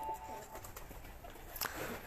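Faint, soft cooing from a pigeon on a rooftop, low and distant, with quiet voices in the background.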